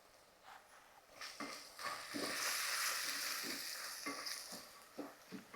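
Spices, turmeric, homemade red masala, chole masala and garam masala, sizzle quietly in a pan while a spoon stirs them in rhythmic scraping strokes, close and soft, with no talking.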